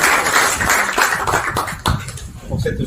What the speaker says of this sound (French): Un petit applaudissement pour Stéphane.